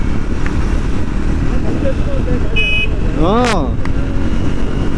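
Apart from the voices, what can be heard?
Triumph Speed 400 motorcycle engine accelerating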